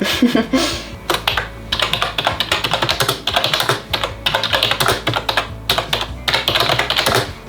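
Fingers type briskly on a computer keyboard at a decorated bedroom desk, a close, dense run of crisp key clicks in uneven bursts with brief pauses, heard alone.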